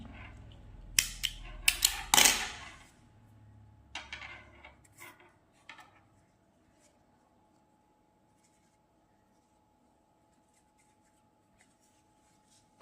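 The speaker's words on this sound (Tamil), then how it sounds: "இந்த த்ரெட்டை லென்த்தை எடுத்து கட் பண்ணிடலாம்" Scissors snip crochet thread in a few quick, crisp cuts close by. Faint handling noises follow, then near silence.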